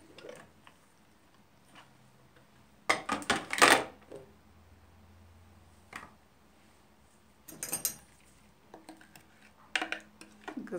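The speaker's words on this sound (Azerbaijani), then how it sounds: "Kartofumuzu əlavə edək bir qaba." Blended potato being scraped and tipped into a bowl, a few clinks and scrapes of a spoon against the container, loudest in one clattering burst followed by sparse lighter taps.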